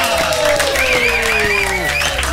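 Crowd applauds for a DJ at a live DJ-set show, loud dense clapping and cheering under a voice and lingering music tones.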